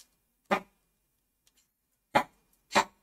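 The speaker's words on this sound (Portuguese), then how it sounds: "meu doguinho tá tossindo" A dog gives three short, harsh coughs, one and then a pair after a pause, close by in an otherwise quiet room.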